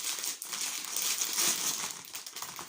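Crinkly plastic crisp packets being pulled open, a dense, continuous crackling and rustling close up that keeps going without a break, with no talk over it.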